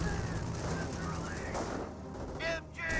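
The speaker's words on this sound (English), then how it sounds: "Does get a great strafing run there on these Panzer Grenadiers" An aircraft strafing run in Company of Heroes hits a squad of Panzer Grenadiers. Steady rattling gunfire and battle noise roll through most of the stretch beneath a talking voice.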